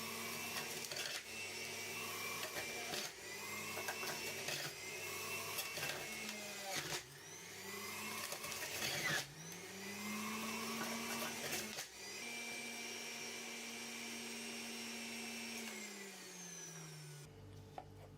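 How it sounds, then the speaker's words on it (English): A juicer motor churning through coconut pieces, a loud whirring drone whose pitch dips and rises repeatedly as the chunks load it, then settles before cutting off. "I'm going to put it in the juicer"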